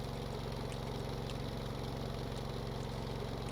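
An engine in the Stormworks game sputters and chokes while trying to start with the throttle held down, giving a steady, rough, low pulsing drone that runs unbroken throughout.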